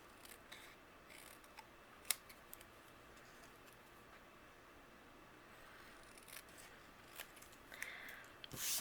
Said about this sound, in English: I'm going to use my scissors and I'm going to trim it into 2 different pieces